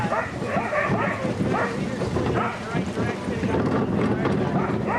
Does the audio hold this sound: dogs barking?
yes